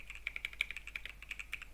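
Quick, light keystrokes on a computer keyboard, a dozen or so irregular clicks typing a web address in a browser, fairly close and alone.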